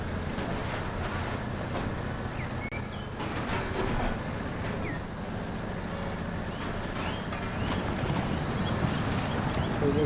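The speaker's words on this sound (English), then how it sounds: "Turbo diesel with too much throttle." Turbo diesel truck engine in Snowrunner pushed with too much throttle, a steady loud droning rumble holding for about ten seconds with no talking.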